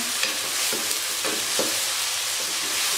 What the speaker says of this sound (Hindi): और इनको हम 2 से 3 मिनट फ्राई करेंगे